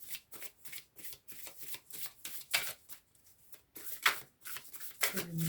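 Tarot cards shuffled and drawn in quick repeated bursts of riffling and sliding, close and crisp, with short pauses between handfuls and a voice speaking briefly near the end.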